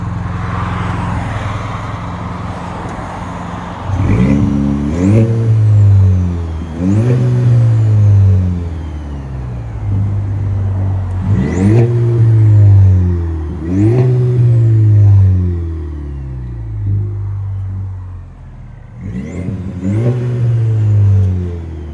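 A 2022 Chevy Silverado with the 2.7L turbo engine and a Flowmaster 40 exhaust revs repeatedly and loudly, with about five sharp rises and falls in a steady rhythm, heard close up.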